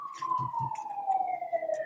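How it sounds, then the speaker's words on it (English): A police siren's long, slowly falling wail carries steadily beneath faint background voices, moderately loud. "Can you hear that siren?"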